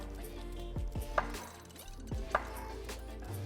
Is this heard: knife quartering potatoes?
yes